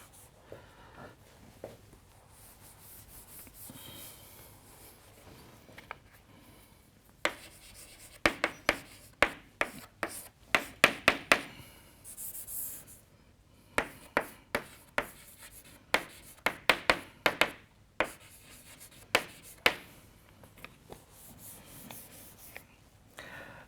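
Chalk or marker strokes on a board in a maths lecture hall, a run of quiet scratchy taps and rubs that come in bursts of short strokes with pauses between them, close and fairly faint, with no one talking.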